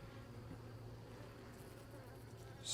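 Honey bees buzzing in an opened beehive with a sparse population, a steady, moderately close hum that carries throughout, with a brief louder noise at the very end.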